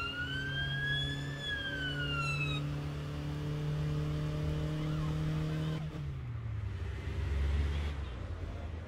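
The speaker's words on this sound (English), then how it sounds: "the siren by pressing mouse button 2" A car siren in the video game APB: Reloaded wails with rising and falling tones over a low engine hum, then cuts out abruptly as the engine note drops and shifts.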